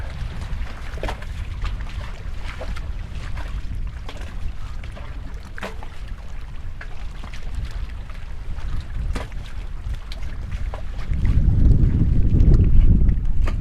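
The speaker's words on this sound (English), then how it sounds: "The wind picked up, but it should be calmer around this cove." Wind buffeting a fishing boat on Falls Lake: a steady, rough, low rushing roar with microphone buffeting that swells louder near the end, with no voices.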